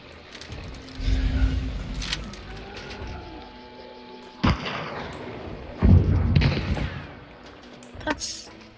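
Gunfire in the video game Hunt: Showdown: a few sharp shots and thuds spaced apart, loud bursts over a rumbling background with some metallic clinks.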